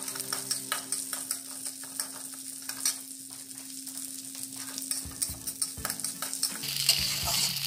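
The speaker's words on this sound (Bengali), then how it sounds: "মুগ ডাল প্রথমে আমি ঘি দিয়ে ভেজে নেব।" Mung dal frying in ghee in a hot kadai, stirred steadily with a metal spoon, giving a loud continuous sizzle with repeated scraping strokes and clinks, and no voices.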